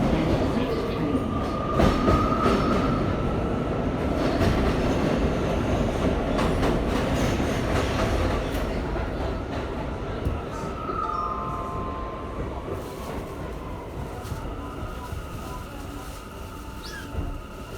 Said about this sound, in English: This is a Broad Street bound J local train.